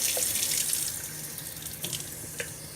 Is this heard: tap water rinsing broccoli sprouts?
yes